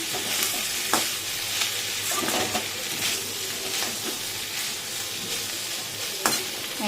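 Potatoes and capsicum fry in a pan, a steady crackling sizzle with repeated scraping clinks as the spatula stirs, close and even throughout, with no speech.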